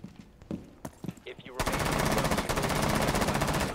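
Rapid automatic fire from an MP7 submachine gun in the tactical shooter Rainbow Six Siege, a sustained burst of loud, dense shots after a few scattered sounds and brief voices.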